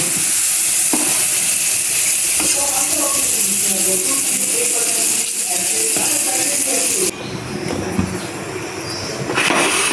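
Onions frying in hot oil until brown, a loud continuous sizzle and crackle throughout, with faint background voices and a shift in texture toward the end.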